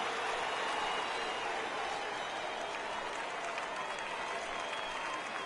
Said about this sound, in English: he receives a nice ovation from this home crowd